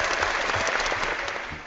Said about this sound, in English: I'm giving you applause